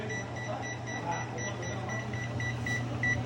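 A kitchen timer emits short, evenly repeated electronic beeps over a steady low hum, near and moderately loud, with no talk.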